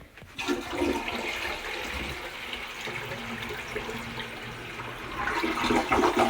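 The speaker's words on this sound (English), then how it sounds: "Let's see how this flushes." A toilet in a cabin, freshly repaired after winter plumbing trouble, flushes with a loud rushing gurgle of water that starts abruptly and holds steady before swelling again near the end, heard close up without talk.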